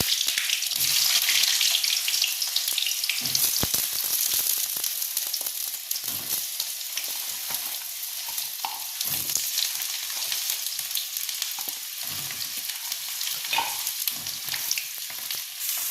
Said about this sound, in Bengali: পটলগুলোকে আমি আস্তে আস্তে তেলের মধ্যে দিয়ে ভেজে নেব।